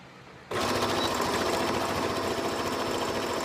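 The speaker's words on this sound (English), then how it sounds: "I'm going to sew right around the extremities." A sewing machine starts abruptly and runs steadily, stitching a conductive patch onto lamé fabric with a close, loud, continuous mechanical whir and buzz for several seconds.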